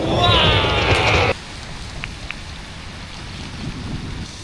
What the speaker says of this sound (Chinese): 打雷喽！ 下雨收衣服啊！